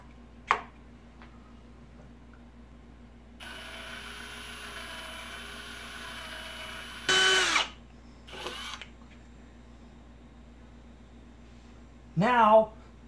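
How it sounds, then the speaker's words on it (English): A power drill drilling a pilot hole in a Harbor Freight US General five-drawer tool cart, with cutting oil, whines steadily for several seconds at moderate loudness, followed by a few brief louder bursts and clunks. "let's go ahead and drill our pilot hole"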